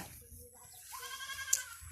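On a farm, a meat-dairy crossbreed goat gives a faint, thin bleat that rises in the second half, over low background noise.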